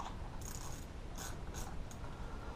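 Small 4 mm bolt on a Losi DBXL RC car being turned by hand, a few short ratcheting clicks and faint metallic ticks close by over a steady low hum, no talking.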